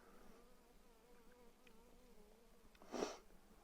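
Honey bees buzz softly around an open hive during an early-year inspection, a faint wavering drone with a louder buzz as one flies close near the end.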